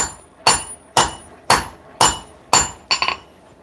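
Hammer striking hot steel to notch a dagger blank, six sharp ringing blows about half a second apart, close and loud, the last one a quick double strike, with no talking.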